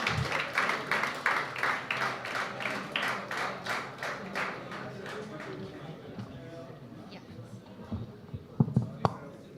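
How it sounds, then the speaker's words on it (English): Audience applause in a hall as the keynote speaker takes the stage at an HR talk event, a rhythmic burst of many hands clapping together that gradually fades, followed by quieter room noise and a few sharp knocks near the end. "Let's give us a warm round of applause as she takes the stage to deliver the keynote address"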